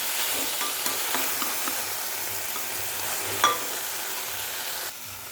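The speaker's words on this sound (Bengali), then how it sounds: "ভালো করে মশলাটা ভাজলে এটার একটা কাঁচা গন্ধ থাকে, ওটা চলে যায়। ভাজা হতে থাকবে।" Spices and tomato fry together in a pan for a vegetable curry, a dense, even sizzle heard up close with faint scraping stirs and one brief clink, no voices.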